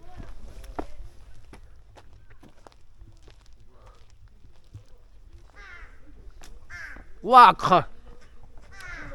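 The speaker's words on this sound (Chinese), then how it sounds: "好多乌鸦！" Crows caw at the Daguantai mountain viewpoint, a few faint distant calls early on, then two louder, closer harsh caws near the end over quiet background, with a brief voice exclaiming.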